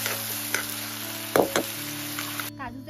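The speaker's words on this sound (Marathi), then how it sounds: "आता इथे कांदा आणि टोमॅटो जो आहे तो छान असा मऊसर होईपर्यंत परतून घेते." Onion and tomato sautéing in a pan for a Kokani-style fresh cashew curry give a steady low sizzle, with a few sharp spoon knocks against the pan midway and a quieter scrape near the end.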